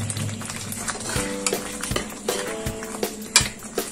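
A spatula stirs paneer into butter masala gravy in a pan, with close scraping strokes against the metal over a soft, constant sizzle and no talking.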